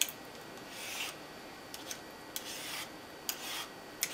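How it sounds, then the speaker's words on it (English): A vegetable peeler shaves thin strips of green vegetable for raw lasagna noodles, making quiet, close rasping strokes. The strokes come in a loose rhythm, with small clicks between them. "This peeler takes really thin slices, which is nice and usually what we want"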